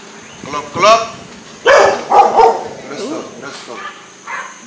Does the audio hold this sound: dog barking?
yes